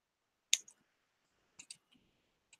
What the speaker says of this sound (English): I think everybody knows how to use a pair of scissors